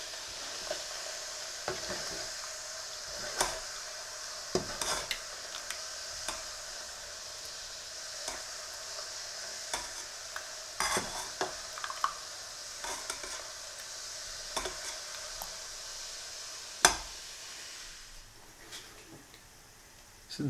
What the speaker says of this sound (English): When it comes to boil, what I do is with a spoon just give it some air.